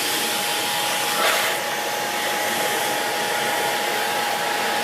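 A steady, loud whooshing roar of a Vax Mach Zen Pet 2 bagless cylinder vacuum cleaner with a straight suction head running continuously up close on carpet, with a brief shift in tone early on.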